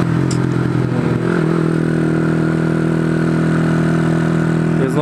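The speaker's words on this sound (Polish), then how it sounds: "Jest nowy wydech, tłumik znaczy." A motorcycle engine fitted with a new exhaust silencer idles close by, a steady low rumble with even harmonic throb and light mechanical clatter, holding constant throughout with no speech.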